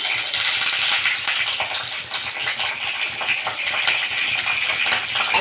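Curry leaves dropped into hot oil for a village-style dried fish kuzhambu spit and sizzle loudly, a dense, crackling hiss with scattered sharp pops running continuously up close.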